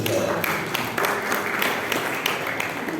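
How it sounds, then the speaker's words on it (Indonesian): Congregation clapping during a Christmas church service at a Pentecostal church in Kediri, a dense steady patter of many hands, moderately loud, with speech mixed in. "Tepuk tangan buat Tuhan Yesus saudara."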